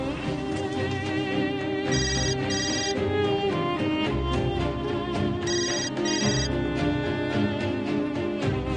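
A telephone ringtone plays continuously, a melodic electronic tune repeating its phrase twice at steady loudness, with no talk over it.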